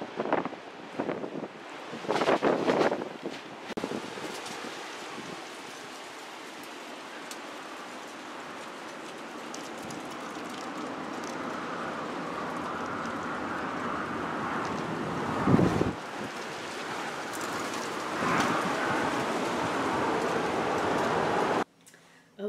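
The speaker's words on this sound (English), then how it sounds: "It is really windy, very, very windy." Strong wind blows outdoors and roars into the microphone in gusts that rise and fall over a steady rushing background, with a few louder buffets near the start and the middle.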